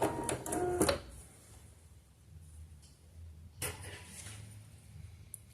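A domestic sewing machine reverse stitches on knit fabric in two short mechanical bursts of rapid clatter, separated by a quiet pause.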